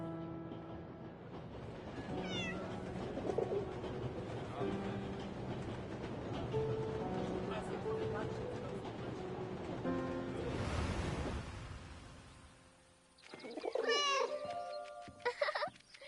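A cat meows repeatedly within the war video game 11-11 Memories Retold, the calls rising over steady ambient game sound and a low rumble, with a louder burst of meowing near the end.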